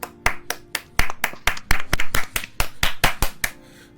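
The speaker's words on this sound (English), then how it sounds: "Everybody give him a big round of applause." A small group or a single person claps in a quick, uneven series of sharp, close claps at a PS5 event discussion, about fifteen distinct slaps over a few seconds with a slight tail at the end.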